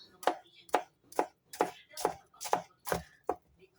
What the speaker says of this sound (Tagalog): Ihatin din natin tong manibalang na mangga.